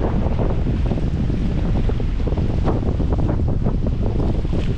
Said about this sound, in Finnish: Tuuli antaa mukavasti meille vauhtia.